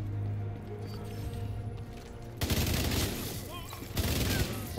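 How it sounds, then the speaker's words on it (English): Gunfire in The Division 2 during conflict PvP, heavy sustained shooting that swells into loud dense bursts partway through, with a voice talking underneath. "just keep shooting out their chain"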